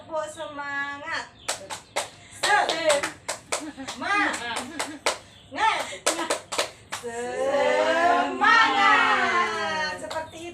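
A group clap chant, tepuk semangat, led during a child protection training session: sharp rhythmic hand claps in quick patterned bursts, alternating with loud chanted voices, then a long sustained group shout.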